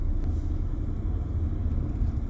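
Manual car creeping through a driving exam course, a low steady engine rumble heard from inside the cabin, close and even with slight pulsing, no talking.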